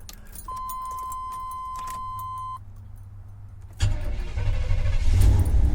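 A steady beep sounds, then a vehicle engine cranks and catches, settling into a loud, rumbling idle close by.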